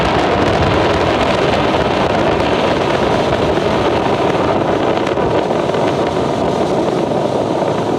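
A SpaceX Falcon 9 rocket climbs during the Bandwagon-2 launch with a continuous, broad, rushing rumble and roar, steady and loud from start to finish, with a wind-buffeted texture and no voices.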